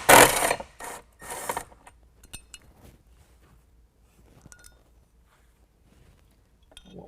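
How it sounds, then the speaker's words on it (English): A T40 Torx driver backs bolts out of a 2020 Jeep Gladiator while a soft top is fitted, giving a few loud buzzing bursts at first, then scattered metallic clinks and taps that grow quieter. "So let's go ahead and take out these two bolts. Again, using a T40."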